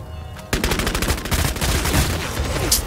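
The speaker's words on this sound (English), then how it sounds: "Bro, who is shooting at me?" Gunfire in the video game Bloodhunt erupts suddenly as a loud, rapid, sustained burst of automatic shots. It continues almost without pause.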